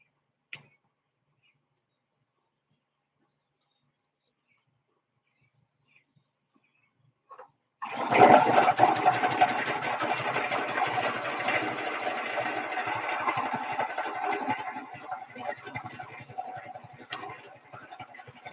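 After a few faint clicks and near silence, an engine fires up and settles into a steady, loud idle with a rattling, buzzing tone, heard close for about ten seconds.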